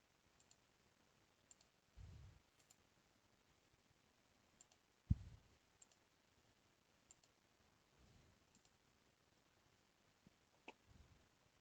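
Several faint, sharp mouse clicks spaced a few seconds apart as lock icons on form fields in Microsoft Power Apps are released one by one, quiet and isolated over a low background hiss.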